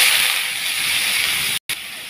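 Pieces of bitter gourd dropped into hot oil give a loud, steady hiss of frying that holds for about a second and a half, then cuts off abruptly and briefly resumes.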